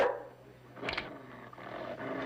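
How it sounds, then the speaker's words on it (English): A dog in a classic western TV scene lets out a short, loud snarling bark in the middle, with rough growling noise around it and no speech. "Pull your dog off right now."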